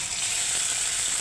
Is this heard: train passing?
no